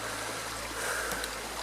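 Water from a small forest waterfall in Talladega National Forest, Alabama, rushes and splashes in a steady, even hiss, soft and continuous with no voices.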